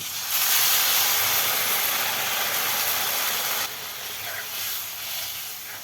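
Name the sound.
jackfruit seed boiling water poured into hot curry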